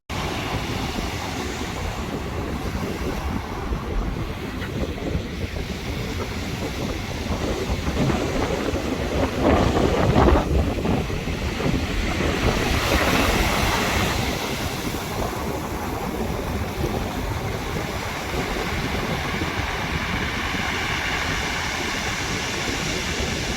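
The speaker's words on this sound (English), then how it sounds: "I'm just going to leave you with some pebble and wave ASMR for calming" Waves wash over a pebble beach at high tide in a steady, even roar of surf, swelling briefly near the middle, with no voices.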